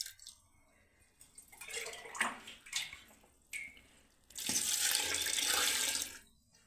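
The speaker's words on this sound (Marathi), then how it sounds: "आता अजून मी दुसरं पाणी टाकून घेणार आहे गव्हांमध्ये।" Fresh water poured over soaked wheat grains to wash them for traditional kurdai, with scattered splashes and clatter and then a strong, steady gush of close running water for a couple of seconds before it tapers off.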